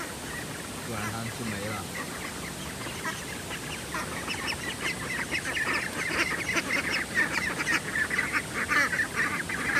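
A flock of ducks near a rice paddy calls out in repeated nasal honks and quacks, growing busier and louder over the clip, while a person speaks briefly over them.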